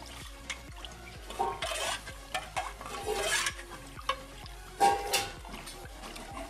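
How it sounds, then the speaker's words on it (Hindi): Gram flour (besan) is stirred into a kadhi pakora mixture: repeated scraping and clinking strokes of a spoon against a bowl, fairly close and uneven in rhythm, with no talking. "हम इसमें थोड़ा थोड़ा बेसन ऐड कर रहे हैं और मिक्स करते जा रहे हैं"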